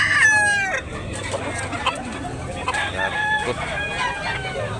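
A rooster at a chicken market in Talisay, Cebu, crows loudly and close by, with a long rising and falling call. Farm-animal clucking and background market noise run under it.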